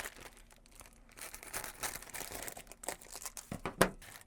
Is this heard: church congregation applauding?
no